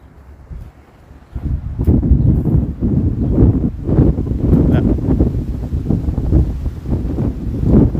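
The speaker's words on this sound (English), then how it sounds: "Wind just kicked up." Gusty wind buffets the microphone outdoors on a Toronto street just north of St. Clair, rising from a light background into a loud, rumbling blast that keeps surging.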